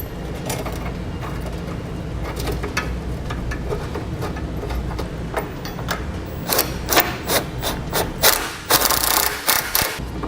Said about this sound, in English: We'll hold it in place like so and thread our bolt in.